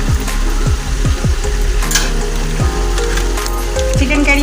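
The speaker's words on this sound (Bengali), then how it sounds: "এবার আমি আরও 5 মিনিট আমি কষাবো" Chicken curry masala sizzles in a pan as it is sautéed, a loud, continuous frying hiss close by, punctuated by repeated low scraping knocks of stirring throughout.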